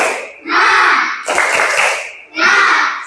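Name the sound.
schoolchildren doing a rhythmic spirit clap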